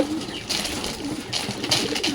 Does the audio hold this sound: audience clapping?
no